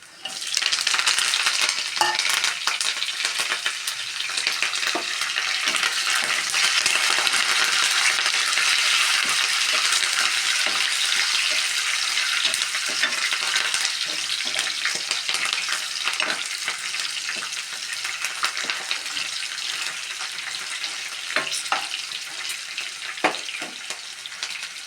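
Peanuts frying in hot oil with green chillies, curry leaves and onions added, giving a loud, steady, dense sizzle with crackling pops throughout, no voices.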